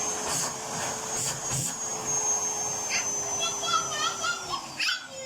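A Siemens vacuum cleaner, just repaired after losing suction, runs with a steady whirring drone under indoor background noise, with children's voices and talk over it.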